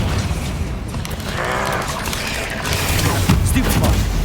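Confringo fire spell blasts in the Hogwarts Legacy video game, loud dense bursts and booms layered over continuous battle noise and mechanical clatter, with no clear pauses between impacts.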